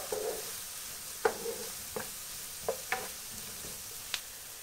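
Onions frying briefly in a pan for a restaurant-style butter chicken give a faint, steady sizzle, broken by a few sharp clicks and scrapes of a spoon stirring at irregular intervals.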